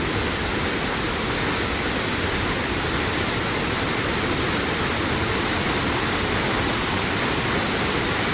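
A waterfall at a river fishing spot in Kerala roars in a loud, steady, unbroken rush of falling water that fills the whole scene with no voices.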